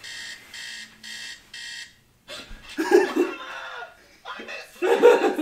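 An alarm clock rings in four evenly spaced bursts of bright electronic beeping over the first two seconds, then stops as people laugh and talk loudly over the rest.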